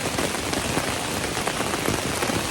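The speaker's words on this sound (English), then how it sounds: "hopefully this rain will be passing soon. I'm gonna have a little dinner. It is really coming down out there." Heavy rain pounds steadily on a backpacking tent along the Superior Hiking Trail, a dense, even hiss and patter with no break and no voices.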